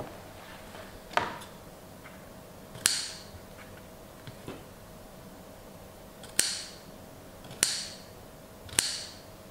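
Scissors snip the corners of a paper accordion wedding album, with about six crisp, separate cuts spread out over a quiet background, close and fairly soft.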